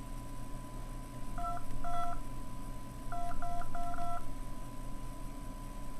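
Dialing tones from a Palm Pre phone: two quick bursts of clear keypad beeps, first a short cluster, then a longer run of several evenly spaced tones, over a faint steady background hum.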